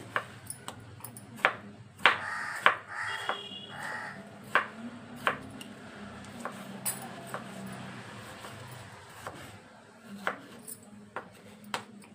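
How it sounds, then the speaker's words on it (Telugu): Tomatoes sliced with a kitchen knife on a board for a tamarind-style masala curry, giving sharp, irregular close taps spread across the stretch, with a faint voice briefly in the background. "ఇప్పుడు టమాటాలు కోసుకోవాలి"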